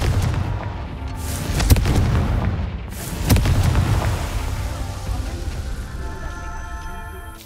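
Confringo blasting spell in Hogwarts Legacy, heavy booming blasts landing near 1.7 and 3.3 seconds over a continuous rumbling roar of game noise that slowly fades out.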